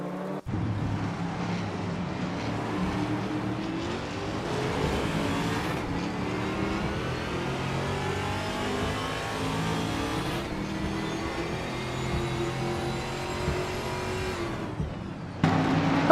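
Racing car engines, including a 2008 Toyota Corolla in a WTC-category video game race, drone and rev continuously with shifting pitch, cutting out abruptly near the start and end.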